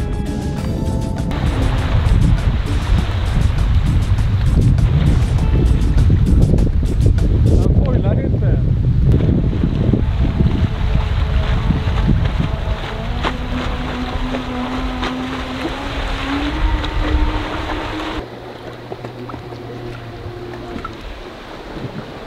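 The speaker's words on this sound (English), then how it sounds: "based on the sound of the water hitting the board, it does sound lighter" Water slaps and rushes against a 3D printed hydrofoil surfboard ridden fast, a loud continuous churning splash with wind buffeting the microphone, easing into a steadier lower wash with a faint droning tone toward the end.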